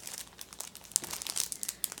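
Thin plastic packaging crinkled and crumpled in the hands, a close, continuous rustle with sharp crackling bursts throughout.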